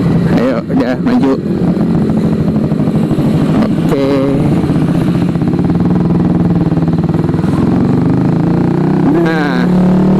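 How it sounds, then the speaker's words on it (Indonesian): A Yamaha R15 V3 motorcycle fitted with an aftermarket racing exhaust runs loud and close, its engine droning steadily with small rises in revs while someone talks over it. "knalpot yang gua pakai ini tuh suaranya jadi terdengar culun"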